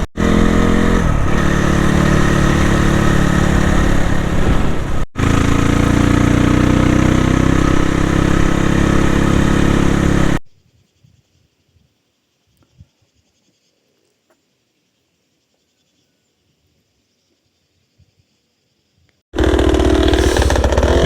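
Dirt bike engines idle and rev loudly up close on a hill climb trail ride in Dujiangyan, China. A sustained buzzing roar breaks briefly, stops for several seconds of near silence, then returns at the end.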